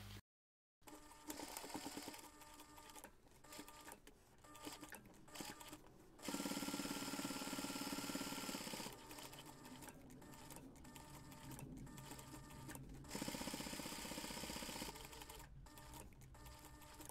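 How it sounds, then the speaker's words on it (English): A sewing machine top stitches along the finished seam of a small crossbody bag flap, running in close, steady mechanical bursts with short pauses between runs and a louder stretch in the middle. "you're going to take this to the machine and top stitch along that"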